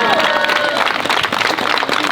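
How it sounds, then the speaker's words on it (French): A crowd claps loudly for a race winner at the podium of a 5 and 10 km charity run along the Canal Saint-Martin; dense, continuous applause close by, with voices mixed in underneath. "on l'applaudit bien fort Agathe"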